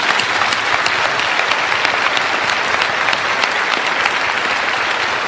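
A large audience at the 32nd Hong Kong Film Awards ceremony in 2013 applauds the Best Film nominees with dense, even clapping that holds steady throughout.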